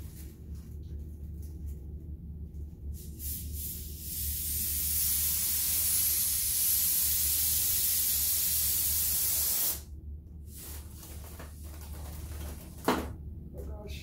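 Helium hisses from a tank into a homemade heart-shaped foil balloon in one long, steady, loud hiss of about six seconds, preceded and followed by quieter handling noises and a sharp click.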